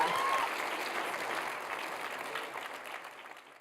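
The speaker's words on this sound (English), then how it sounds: "let's give her a round of applause" A room full of people clapping steadily at an awards ceremony, a dense sustained wash of applause that slowly fades.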